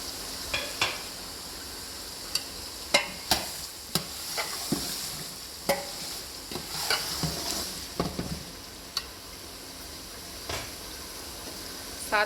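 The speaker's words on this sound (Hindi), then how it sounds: "हम ऐड कर रहे हैं इसमें टमाटर।" Tomatoes frying in a pan for a Sobat Painda dish, a steady sizzle under repeated scraping strokes of a spoon stirring, with sharp clinks against the pan scattered throughout, fairly close and moderately quiet.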